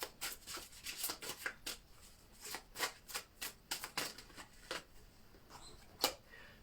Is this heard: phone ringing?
no